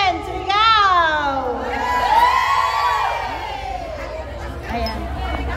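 A large crowd at a fan meet-and-greet shouts and cheers loudly on cue, rising whoops and high children's screams swelling and fading over several seconds amid dense chatter.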